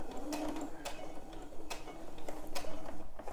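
A sewing machine runs in short bursts of quick mechanical stitching while seams pass under the presser foot, with sharp ticking clicks recurring at uneven intervals, heard close and moderately quiet.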